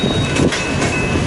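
Freight train rolling past in Fremont, Nebraska, a loud, close, continuous rumble with rhythmic wheel clatter, steady throughout the short stretch and with no voices.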